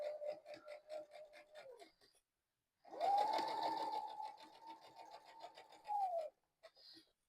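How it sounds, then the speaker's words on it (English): A sewing machine stitches a tote bag seam in two short runs, with a brief run, a pause, then a longer steady whirring burst. It is quiet and close, with light handling rustles between the runs. "Starting with our back stitch and taking your pins out as you go."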